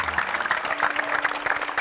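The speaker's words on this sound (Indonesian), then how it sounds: "Ya udahlah, tepuk tangan lah ya" Studio audience applause on an Indonesian Ramadan TV comedy show, a brief dense patter of clapping at moderate volume.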